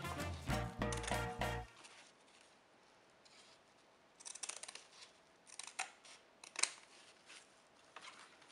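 Scissors snip off excess material on a small tropical straw-hut craft, a dense burst of quick close cuts at first, then a few sharp, separate snips spaced out against a quiet background.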